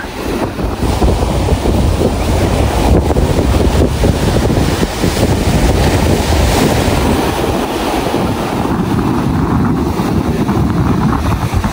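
Big, strong ocean waves churn and crash in a continuous, loud roar at the sea shore, with heavy wind buffeting the microphone throughout and no talking.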